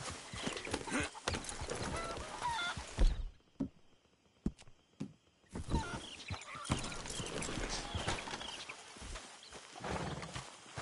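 Horse hooves clip-clop at a steady walking rhythm in the video game Red Dead Redemption 2, close and moderately loud, with a brief quiet gap midway and faint game ambience.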